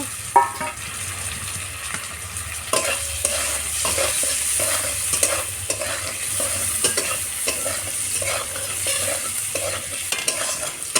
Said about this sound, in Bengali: এবার আলুগুলোকে আরও সুন্দর করে ভেজে নেব